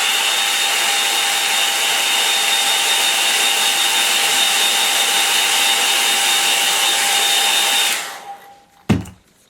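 A hair dryer blows hot air over a freshly painted autumn-tree watercolour, a loud steady whine that runs alone for about eight seconds, then powers down, followed by a brief knock.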